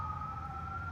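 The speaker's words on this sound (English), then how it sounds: "Apologies for the ambulance in the background." An ambulance siren sounds in the background as one steady wailing tone, fairly loud, with nobody talking.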